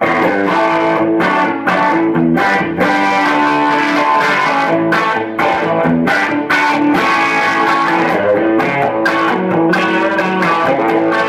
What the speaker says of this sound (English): It's just the sound of the guitar through a good tube amp.